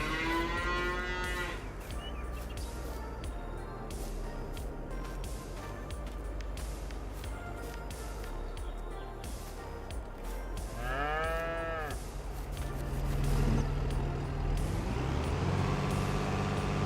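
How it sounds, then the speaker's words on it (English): Animated cows at a farm dealership in Farming Simulator 22 moo repeatedly, several long drawn-out calls standing out above a steady background of game ambience and engine hum. "So we have animated cows down here at the dealership."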